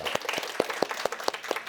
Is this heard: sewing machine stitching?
no